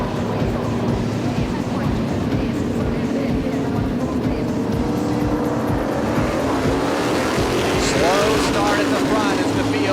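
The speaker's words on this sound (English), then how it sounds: "Gets the green flag, and it'll be led by the 17 of Wayne Corey Jr." Late model race cars roar together as the field takes the green flag at Waterford Speedbowl, a loud continuous engine drone with revs climbing near the end.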